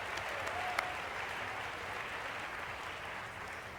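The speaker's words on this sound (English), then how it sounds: "Let's give a round of applause for them" Steady audience applause at a formal Black History Month speech event, a dense even wash of many hands clapping at moderate distance, holding unbroken for several seconds.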